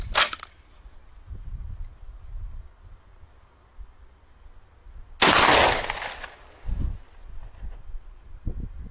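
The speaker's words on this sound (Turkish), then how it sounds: "UTS-15 pompalı tüfekle ilk atışlar." A UTS-15 pump-action shotgun fires BNB ceramic slugs outdoors: two loud, sharp blasts, one at the very start and another mid-clip with a longer ringing decay, and quiet gaps between.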